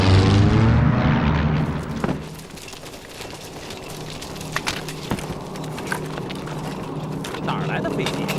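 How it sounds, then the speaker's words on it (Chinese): A propeller warplane flying overhead in a wartime air-combat scene gives a loud, low engine drone that is strongest at the start and then eases into a steadier rumble, with voices and scattered sharp knocks over it. "哪儿来的飞机？"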